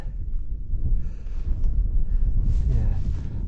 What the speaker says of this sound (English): I think that wind's come from the northeast rather than the northwest.